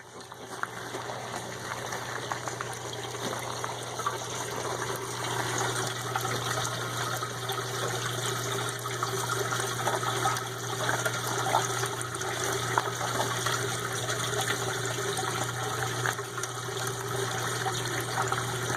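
Water rushes steadily through a Gold Webb gold concentrator processing mining concentrates, a continuous close, even wash of flowing liquid without pause.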